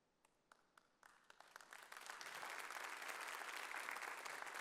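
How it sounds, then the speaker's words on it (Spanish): After a workplace ergonomics presentation, an audience starts with a few scattered claps. The clapping quickly swells into full, steady applause that is moderately faint and free of speech. "con ese aplauso agradecemos, María, Paola, la presentación"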